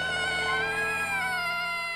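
A kitten gives one sustained, high, plaintive meow that slowly falls in pitch, clear and close.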